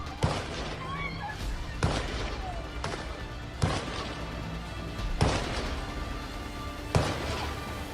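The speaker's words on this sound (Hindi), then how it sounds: "दो इस्लामिक आतंकी यहूदियों पर गोली चला रहे हैं।" Gunfire during a terrorist attack at Bondi Beach in Sydney: six sharp shots spaced about a second and a half apart, ringing out over a noisy background with faint voices.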